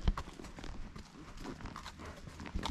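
Horse hooves clip-clop irregularly on a trail ride, close and moderately loud, with soft rustling and handling noise around the footfalls.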